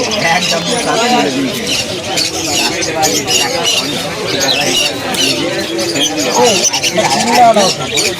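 Pet birds squawk and chatter continuously at a busy bird market in Shrirampur, with voices of people talking close by throughout.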